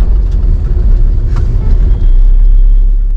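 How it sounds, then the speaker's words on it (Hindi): Steady, heavy road traffic in Calangute, Goa: a continuous low rumble of cars and larger vehicles passing close by, loud and unbroken with a brief hiss like an air brake partway through. "काफी ट्रैफिक है इधर, होता ही है"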